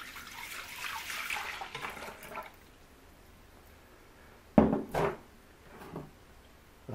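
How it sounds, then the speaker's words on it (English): Vinegar poured into a tomato chutney mixture with pepper, a quiet liquid pour over the first two seconds, followed by a few clattering knocks and taps from the container or utensils. "First of all, you can add the vinegar."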